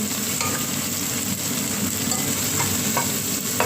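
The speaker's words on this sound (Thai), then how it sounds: "ผัดพริกให้หอม เวลาผัดพริกไม่ต้องใส่น้ำมันเยอะ" Chili peppers stir-fry in a small amount of oil, giving a steady, close sizzle broken by light scraping stirs throughout, with no talking.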